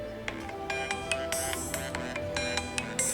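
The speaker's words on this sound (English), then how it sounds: "my daily tea party alarm sounds like this" A bright, bouncy electronic phone alarm ringtone melody plays on its own, with rhythmic chiming notes repeating at a moderate volume.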